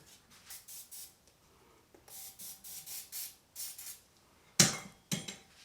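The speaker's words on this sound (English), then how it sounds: "I'm going to clean it off and then put a little spray lube" A run of short hissing bursts of spray lubricant in quick rhythmic pulses on a Mercedes SL55 AMG idler pulley assembly, followed by a couple of sharp, louder bursts near the end.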